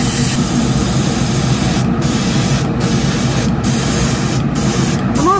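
An airbrush sprays paint onto a resin swimbait with a close, loud, continuous hissing rush, broken by several brief gaps in its highest hiss.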